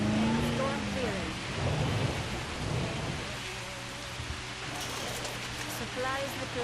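Thunderstorm in the dinosaur park game Jurassic World Evolution: steady heavy rain with low rolling thunder throughout, mixed with in-game voices and scattered bird-like chirps.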